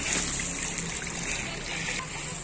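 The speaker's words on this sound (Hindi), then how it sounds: "ये सारा यहाँ से फिर पानी जा रहा है" Water flowing through a small dug channel, a bright hissing trickle with light splashes, close by and steady, with a voice faintly in the background.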